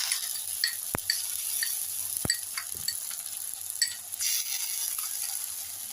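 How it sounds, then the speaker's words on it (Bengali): Ground whole tomato frying with fried onion in a pan for dhokar kalia, a moderate sizzle with a few sharp utensil clinks and stirring scrapes, no voices. "পেঁয়াজটা ভাজা হয়ে এসছে, আমি এবার একটা গোটা টমেটো বাটা দিয়ে দিলাম"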